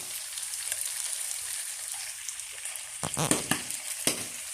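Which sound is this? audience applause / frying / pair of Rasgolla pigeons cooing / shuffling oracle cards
frying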